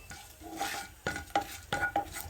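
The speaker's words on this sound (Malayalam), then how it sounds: "അത് കുറച്ച് ജീരകം കൂടെ ചേർത്ത് ജസ്റ്റ് ഒന്ന് മൂപ്പിക്കുക." Cardamom powder and cumin roasting in ghee in a pan, heard as a soft sizzle broken by several distinct scraping stir strokes and light utensil clinks against the pan, close by and without speech.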